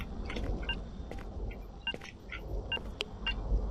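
Anomaly detector in the S.T.A.L.K.E.R.: Shadow of Chernobyl game, giving short, high electronic beeps in an irregular series of about a dozen pips over a low, quiet background rumble.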